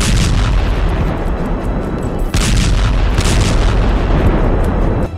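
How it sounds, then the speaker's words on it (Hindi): Continuous heavy rumbling booms of explosions with overlapping bursts of gunfire, loud and dense throughout, briefly dipping before surging again. "बस बम बरसते हैं। गोलियां चलती हैं"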